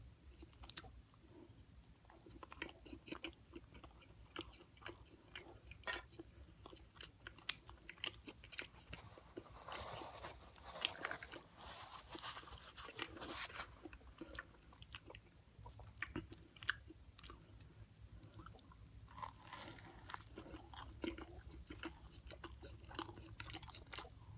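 Close, quiet chewing of cornbread eaten with brisket, soft crunchy bites and mouth sounds repeating steadily with no talking.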